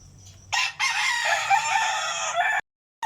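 A backyard rooster crows once, loud and close, a drawn-out call of about two seconds, with no voices heard.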